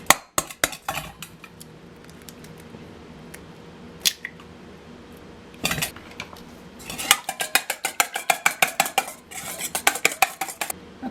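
A whisk clinks against a bowl holding sugar, baking powder and salt, starting with a few scattered taps and settling into a quick run of rhythmic scraping clatters, nearby and without speech.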